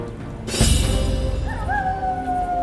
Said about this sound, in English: The wolf howl signifies that night has begun.